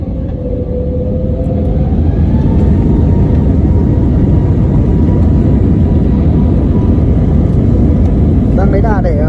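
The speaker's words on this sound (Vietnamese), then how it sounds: "Đang lấy đà để đạt đủ tốc độ là sẽ cất cánh." Airplane accelerating down the runway for takeoff, a loud, steady roaring engine rumble that builds and holds, heard from inside or close by with a rising whine.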